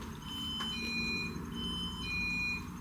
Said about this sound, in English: That's the alarm for outside.